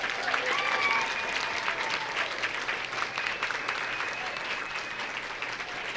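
An audience applauds the city council, mayor and Carmen Snow at a puzzle unveiling in Washington City, Utah, sustained dense clapping that holds steady and fairly loud for the whole stretch.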